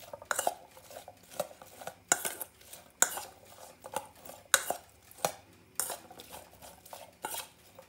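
A spoon stirs onions in olive oil in a frying pan, giving a steady run of close, sharp clinks and scrapes against the pan at a quick, uneven rhythm, with no talk.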